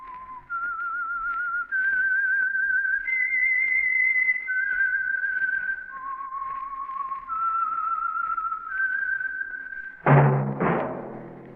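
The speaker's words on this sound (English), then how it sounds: "That whistle is your signal for the Signal Oil Program, The Whistler." A lone whistled melody, the theme of the radio mystery show The Whistler, with clear sustained notes stepping up and down, ending in a brief louder burst of other sound.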